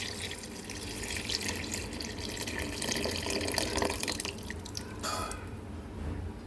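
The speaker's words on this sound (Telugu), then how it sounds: "బాగా మగ్గిందిగా, పులుపు పోసేసుకుందామండి" Tamarind juice poured into a pot of simmering sambar gives a steady splashing, dripping pour that lasts several seconds at close range and then tapers off. No one speaks.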